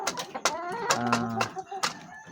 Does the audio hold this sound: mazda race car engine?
no